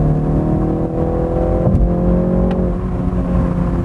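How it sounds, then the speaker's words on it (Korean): A BMW 3 Series in sport mode plays an artificial exhaust note through its cabin speakers, a steady low engine drone with a slight rise in revs, heard from inside the car. "스피커에서 나는 배기음이"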